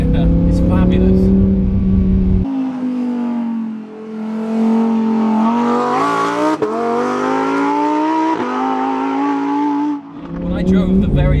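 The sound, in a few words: Lamborghini Huracán Performante engine and downshifts while driving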